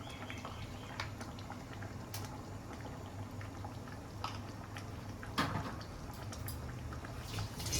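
Prawn malai curry with garam masala simmering in a pot, a steady low bubbling with soft pops and occasional louder spits, close and continuous with no voices.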